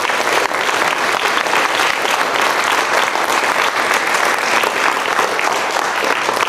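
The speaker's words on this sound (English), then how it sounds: "I'm going to remember this clapping for after staff meetings when I meet you." Loud, steady clapping from a room of middle school students after a poetry reading, a dense continuous patter of many hands heard up close throughout.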